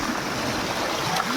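Water poured for a bath in hot weather, a continuous splashing, rushing flow that stays steady and close for the whole moment.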